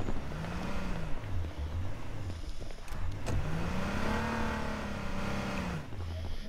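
Police car engine in the survival game H1Z1 revving and accelerating away, pitch rising and falling through gear changes, steady and close with background game noise.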